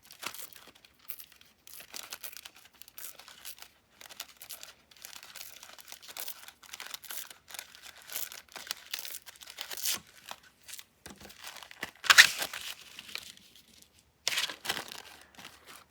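Paper torn by hand, a series of soft crinkling rips with two sharper, louder tears near the end, close and quiet.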